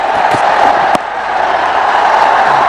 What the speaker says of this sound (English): So the crowd enjoying themselves